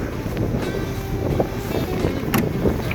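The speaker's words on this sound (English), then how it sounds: "And the wind is just whipping through here." Strong wind buffets the microphone outdoors on a snowy day beside a Jeep TJ, a steady rough roar with low rumbling gusts throughout and no talking.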